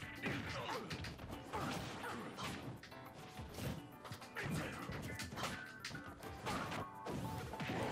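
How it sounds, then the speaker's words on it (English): Heavy smashing and thwacking impacts from Incineroar fighting Cloud in the video game Super Smash Bros. Ultimate, a loud, dense run of crashes and hits with whooshes between them, mixed with busy game sound. "charging up those smash attacks"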